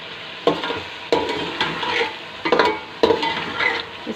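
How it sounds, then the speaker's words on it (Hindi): Mutton macaroni seasoned with chaat masala is stirred and fried in a pan, a sizzling hiss broken by regular scraping strokes about every half second to second, close up and without talk. "اس کو میں اچھے سے بھون لوں گی۔"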